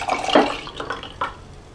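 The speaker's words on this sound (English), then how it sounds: "I am just going to pour that same water into this new propagation vessel" Water poured from one container into a plant propagation vessel holding a fiddle leaf fig cutting, a short close splash and gurgle that trails off into a couple of faint trickles.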